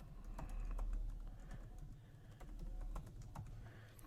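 Someone types a username and password on a computer keyboard, close up. Keys click in irregular bursts and single taps over a low background hum, with no speech.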